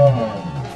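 A low, drawn-out moo-like tone from Poker Night 2 marks a game counter ticking over to raise the blinds. It is loud and close, a single falling groan that lasts under a second.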